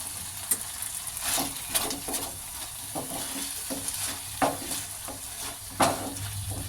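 Chicken pieces stirred and cooked in hot oil in a pan for chicken rolls, a continuous close sizzle broken by repeated scraping strokes of a spatula and occasional louder scrapes.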